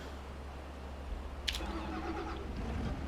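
An old Case Puma tractor engine cranks with a sharp catch, then settles into a steady low running rumble nearby, with no voices.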